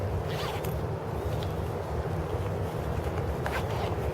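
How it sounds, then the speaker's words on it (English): Pit zips on a 5.11 Sabre 2.0 jacket being zipped closed: close, quick zipper rasps over a steady windy background. "I can zip these closed"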